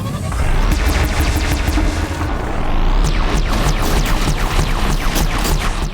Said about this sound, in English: If we can get this thing here, the Ravager cannon.